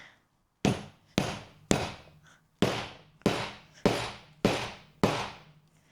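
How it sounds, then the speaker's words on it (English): A heavier, larger hammer strikes repeatedly during a beginner crafting test of cheap tools: eight sharp, loud blows at a fairly steady pace, each with a short decaying ring, with no talking. "the heavier hammer with the extra sort of size to it did go through much easier"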